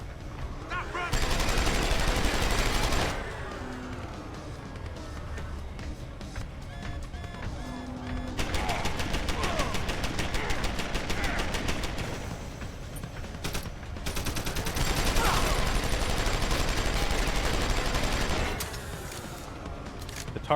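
Gunfire in Deus Ex: Human Revolution, with a mounted turret in the fight, rattles loudly in sustained bursts through most of the stretch, broken by brief lulls and mixed with a busy combat din.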